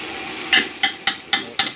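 Spice paste sizzles in a pan while a utensil scrapes through it in five quick, evenly spaced strokes, each a sharp bright swish over a soft frying hiss.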